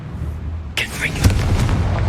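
A Confringo fire spell bursts in Hogwarts Legacy, a sudden whooshing blast with a bright swirling flare followed by rumbling booms and crackle that carry to the end, with a voice heard beneath.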